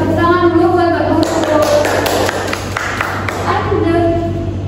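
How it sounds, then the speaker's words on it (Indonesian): Clapping for a teacher in a mathematics class: a short burst of scattered hand claps from a few people, over a steady electrical hum and background voices. "Saya tepuk tangan dulu buat Mbak Guru."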